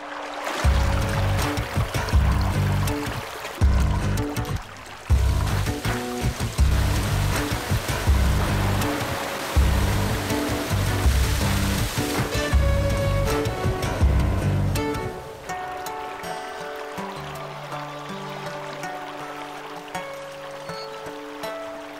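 Water rushes continuously through ancient falaj irrigation channels in an Arabian valley, a loud steady flow layered with sustained tonal sounds, which thins and softens noticeably toward the end.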